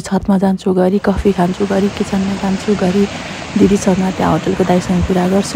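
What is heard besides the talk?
river water flowing, birds in background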